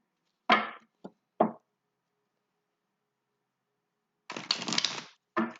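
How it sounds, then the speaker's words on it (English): Tarot cards are reshuffled with a few quick, soft riffling snaps, then a longer burst of shuffling after a quiet pause, close and faint overall. "they're telling me to reshuffle"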